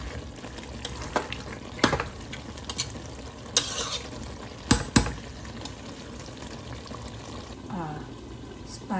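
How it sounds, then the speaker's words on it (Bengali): Sour-sweet plum (boroi) pickle being stirred in a pan, with scattered scraping clinks and soft bubbling sizzle, a few sharp knocks of the utensil against the pan, and a voice briefly audible near the end. "এবার আমি আবার ভালো করে নেড়ে নেব।"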